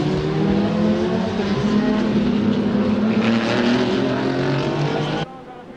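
Historic front-engine Grand Prix cars, including Maserati 250Fs, racing at the Monaco Historic Grand Prix, with a loud sustained engine roar as the pack passes, cutting off sharply near the end.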